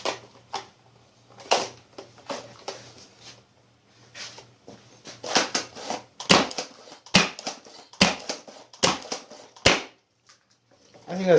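A homemade Nerf Longshot blaster fires full-length darts, giving a series of sharp, loud snaps at irregular intervals mixed with priming clicks and handling noise, with a person talking briefly between shots.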